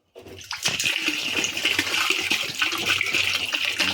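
A steady, close rush of water pours into a mix of jaggery and cow urine for jivamrut. The stream starts abruptly and runs continuously at an even, fairly loud level, with no voices.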